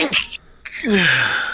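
A sharp sneeze bursts out, then a short breathy vocal sound follows.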